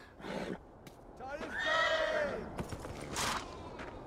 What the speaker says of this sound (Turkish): Atın biri kontrolden mi çıktı?